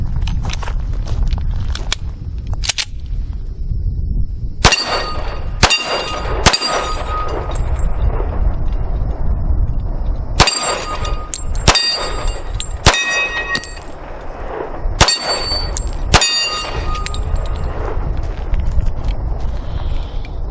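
Colt 1911 Competition Series 70 pistol firing semi-wadcutter rounds outdoors, a series of sharp, loud shots spaced a second or more apart, some in quick pairs, with metallic ringing after several reports.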